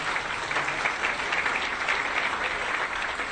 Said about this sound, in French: je vous demanderai d'applaudir très fort mon ami Mbagnick Diop